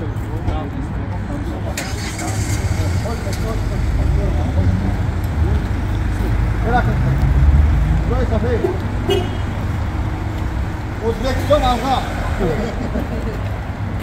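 Traffic rolls past on a road, a low steady rumble of passing cars with a couple of short horn toots, while people talk close by over the noise.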